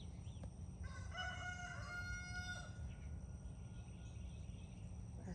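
A rooster crows once, loud and close, its drawn-out call standing out over a steady low rumble of background noise and faint insect chirps.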